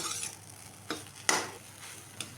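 Grated coconut stirred and roasted in a pan, a soft dry sizzle with a few sharp scraping strokes of the spoon against the pan, no voices.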